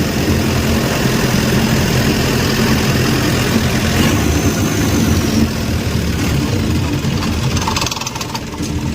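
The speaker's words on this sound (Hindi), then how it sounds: "अभी इंजन को भी रिवर्स घुमा रहा है ताकि जो बोट है वो पीछे की तरफ जाए।" A tour boat's engine runs steadily in reverse off Ao Nang Beach near Krabi, a loud continuous low rumble and drone that holds throughout, easing slightly near the end.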